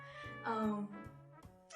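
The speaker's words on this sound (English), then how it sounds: "It's like a little snorting meow." A cat lets out a few short, nasal meows with a snorting, grumbling edge, close and fairly quiet, in quick succession.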